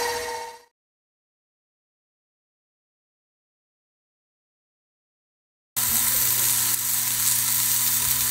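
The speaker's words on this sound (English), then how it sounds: "So I like to take a little bit of the meat and fry it up a little bit before I actually stuff it." A small portion of seasoned meat-stick mixture fries in a pan, a brief sizzle cutting to silence, then a loud, steady close sizzle returning for the last few seconds.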